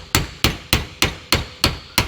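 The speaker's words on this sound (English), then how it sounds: "we making do with a hammer and chisel" Hammer blows on a chisel driving a greased threaded ring loose, seven sharp metallic strikes at a steady rhythm about every third of a second, loud and close with no talking.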